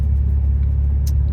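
A Nissan Z engine revs high and steady as a delayed shift into second holds the RPMs up, a loud, close, continuous drone with no talking.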